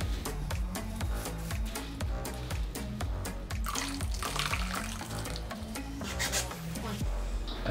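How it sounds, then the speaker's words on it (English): Melon, pepper and lime puree poured into a fermenter of gose homebrew, a continuous close-up sloshing and gurgling pour with rhythmic glugs, steady and fairly loud with no talking. "I'm gonna pour my puree into it."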